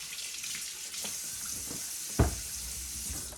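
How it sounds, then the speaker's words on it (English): Tap water runs into a kitchen sink while potatoes are rinsed, a steady close hiss of flowing water with one brief clunk partway through and no talking. "you're going to want to rinse all your potatoes off."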